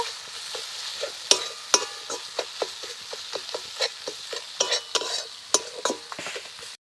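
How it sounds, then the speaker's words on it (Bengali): Ground spices stir-fried with a spatula for a capsicum curry, steady sizzle and frying hiss with repeated sharp scraping taps of the utensil against the pan, close and fairly loud throughout. "এবার মশলাকে দিয়ে একটু ভেজে নেব"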